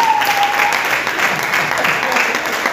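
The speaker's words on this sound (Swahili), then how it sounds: "makofi kwake na bibi harusi" A church congregation at a wedding-themed sermon claps for the bride and groom, a dense, steady wash of applause that stays even throughout, with a brief whistle-like tone at the start.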